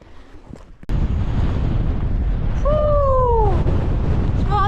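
Strong, cold wind roars across the microphone on the exposed top of Seathwaite Fell in the Lake District, a loud continuous buffeting that begins abruptly, with a brief whooping voice heard over it.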